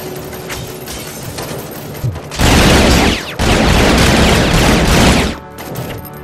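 Sustained bursts of automatic gunfire rattle through a Robocop Rogue City firefight, loud and dense, with a quieter stretch of shooting before and after the heaviest volley.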